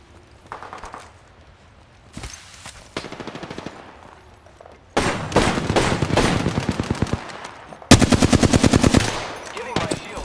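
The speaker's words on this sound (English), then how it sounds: "The enemies are shooting at me." Flatline assault rifle fire in Apex Legends comes in several loud, rapid automatic bursts of evenly spaced shots, growing heavier and closer with each burst, separated by short quieter gaps.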